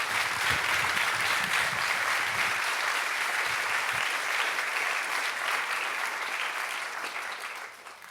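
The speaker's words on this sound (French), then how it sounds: "je vous propose de les applaudir" Sustained applause from an audience at a French presentation of a report on the state of public services in 2023, dense and steady clapping that gradually thins and fades toward the end.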